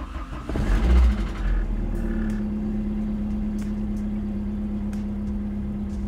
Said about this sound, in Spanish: cuando nosotros encendemos el carro